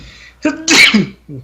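A single sharp sneeze bursts out close to the mic, preceded by a quick intake of breath and followed by a brief voice.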